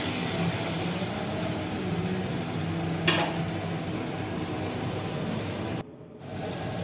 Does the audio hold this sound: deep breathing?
no